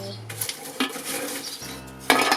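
Pieces of charcoal picked out of a kamado grill and dropped into another pan, giving a few scattered clinks and scrapes of metal followed by a louder rattling clatter near the end.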